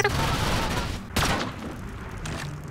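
Gunfire in the video game Rust, fired through a base wall during a raid: a dense burst of shots, a sharp loud crack near the middle, then further shots fading into background noise.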